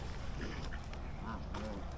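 Ducks quack in short, scattered calls near a waterside, mixed with a voice talking over a steady outdoor background.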